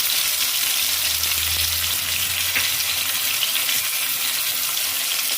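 Garlic and chopped onion fry in a pan with a steady, dense sizzle that stays close and even throughout, with no voices over it.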